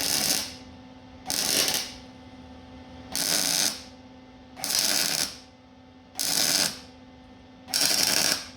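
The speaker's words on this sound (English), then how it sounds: "I got a little bit of a gap here, so I'm filling it up with weld" Welding fills a small gap on a 1948 Chevy truck in six short, loud, buzzing bursts of about half a second each, separated by brief pauses over a faint steady machine hum.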